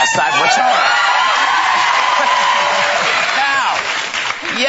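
A studio audience on a daytime talk show cheers and applauds continuously and loudly, with whoops and laughter mixed into the sustained roar.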